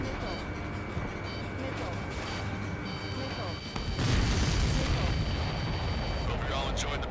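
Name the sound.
supply ship explosion in Ace Combat 7 video game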